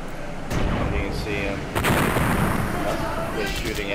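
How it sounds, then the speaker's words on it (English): Gunfire and heavy booms aimed at a U-boat in a submarine video game: deep percussive blasts land with a rumbling roar, one near the start and a larger one midway, under a dense low-frequency din. "Shooting at me now"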